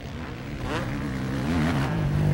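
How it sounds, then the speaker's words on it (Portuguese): Jorginho Balbi's 250cc motocross bike roars with a rising, wavering engine note during a Brazilian championship race, the revs climbing and swelling in loudness as it passes close by. "O ronco da moto do Jorginho Balbi."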